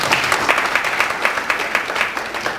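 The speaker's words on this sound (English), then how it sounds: "that's right, you can applaud for that." An audience at a Second Chance Day justice event applauds, with dense, steady clapping from a crowd that carries through the whole moment at moderate loudness.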